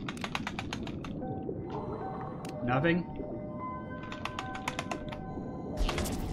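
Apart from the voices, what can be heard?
slapping a computer keyboard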